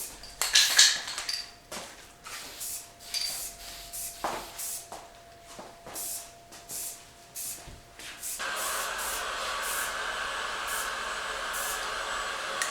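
Spray paint can laying a light dusting coat on a rifle: several short hissing bursts, then a long, steady, close spray hiss over the final seconds.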